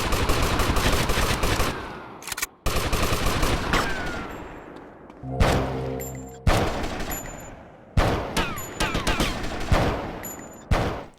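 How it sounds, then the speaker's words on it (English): Gunfire during a betrayal confrontation with Lance Vance in a Grand Theft Auto game: repeated loud bursts of shots in clusters with sharp breaks between them, and no talking. "The moment you start firing at Lance, he runs away to the rooftop like a coward"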